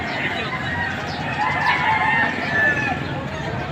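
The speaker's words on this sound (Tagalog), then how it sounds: "ito po ang dalang manok ni sir" A white claret gamefowl, a two-year-old stag, crows amid a busy rooster sale in Padre Garcia, Batangas, its call rising over a dense background of other birds and crowd noise.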